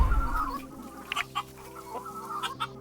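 Chickens in the farming game Dinkum cluck in short, scattered bursts over a low steady game background hum, moderately close with no talking.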